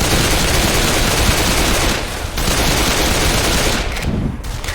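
Left 4 Dead 2 gunfire in a shopping mall: a loud, unbroken stream of automatic shots crackling for several seconds, pausing briefly twice before resuming, with no talk over it.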